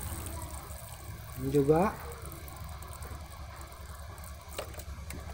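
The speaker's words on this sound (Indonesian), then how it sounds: "Ini juga kita siram ya teman-teman." Water splashes softly onto kencur plants growing in polybags, a low steady trickle heard under someone speaking nearby.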